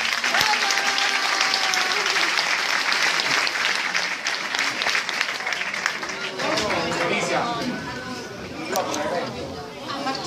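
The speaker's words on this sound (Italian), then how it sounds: "Facciamo un applauso." Audience applause at a local talent show in Torella, a dense, steady clapping from a live crowd that carries on for about ten seconds with chatter and a voice mixed in, thinning slightly toward the end.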